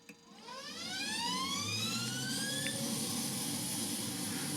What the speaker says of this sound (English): I will show you right now as we start up engine number 2.